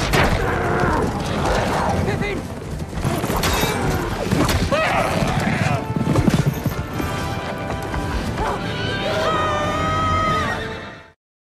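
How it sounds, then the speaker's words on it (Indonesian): Horses of the Rohan riders gallop in a battle charge, steady clip-clop hoofbeats with whinnies and neighs over a dense, loud rumble of mixed noise throughout. "pasukan Eomer, para penunggang kuda Rohan"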